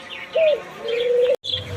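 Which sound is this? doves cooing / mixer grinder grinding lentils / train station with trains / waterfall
doves cooing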